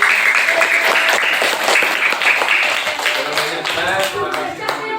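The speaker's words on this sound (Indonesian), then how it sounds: "luar biasa kita beri tepuk tangan untuk kelompok apel yang diwakili oleh Yosi." A group of teachers in a training session claps for a presenting team, loud close hand claps with some distinct individual claps and voices mixed in.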